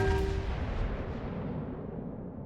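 Secondary battery guns on a warship in World of Warships booming in a single loud, rumbling report that slowly decays, with no talk over it.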